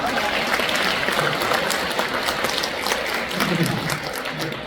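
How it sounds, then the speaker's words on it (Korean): Audience applause at a church Bible festival event in a cathedral hall, a dense steady patter of many hands filling the whole stretch with a faint voice or two mixed in. "두 번째 박수를 받네요."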